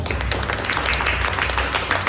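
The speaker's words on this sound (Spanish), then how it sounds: "Así que nos recibimos un fuerte aplauso" An audience at a Bible study session on Ephesians gives a round of dense, steady applause of many clapping hands, lasting a couple of seconds without a break.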